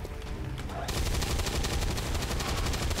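Gunfire rings out in the XCOM 2 Long War modded game, with a rapid, crackling volley of shots that continues steadily for about two seconds, loud and dense against the game's background.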